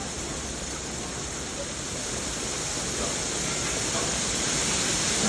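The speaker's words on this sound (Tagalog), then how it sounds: "Kasi umuulan naman." Heavy rain falls during a hailstorm as a steady, dense wash of noise. It stays even and continuous from start to end, at moderate level, with no clear voices.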